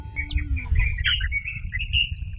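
Small birds chirp and tweet in quick, high bright calls over a low rumble of outdoor background noise.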